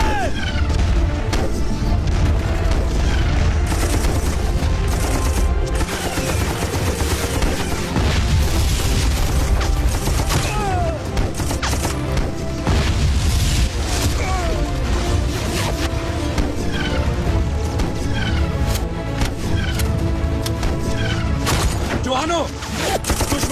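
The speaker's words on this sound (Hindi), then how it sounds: "सर इस तरफ से हैवी फायर हो रहा है सर।" A dense, continuous battle soundtrack from a film about the 1965 India–Pakistan war, with heavy gunfire, booms and crashing impacts layered loudly throughout and voices shouting within the din.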